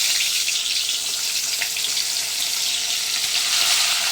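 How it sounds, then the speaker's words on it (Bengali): Amudi fish frying in a pan, a steady close hiss and crackle of hot oil with no break or speech. "এই যে আমুদি মাছটা ভাজা বসাবো"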